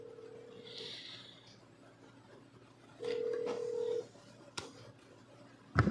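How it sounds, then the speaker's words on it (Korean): Telephone keypad tones beep while dialing out to a news reporter in a broadcast studio: two steady tones of about a second each, separated by quiet line hiss, then a brief click and a sharp burst at the end. "전화를 걸어볼게요."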